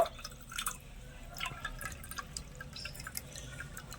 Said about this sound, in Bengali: জলটা ভালো করে একটু ছেঁকে নেব